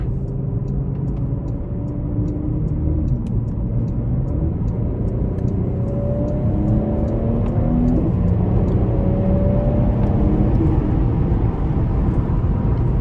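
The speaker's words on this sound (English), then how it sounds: "We're gonna give it a little bit of throttle here." A 2018 Porsche Panamera with a turbo V6 accelerating from inside the cabin, a steady loud engine drone with tones rising as it pulls through the gears, brief dips at each shift.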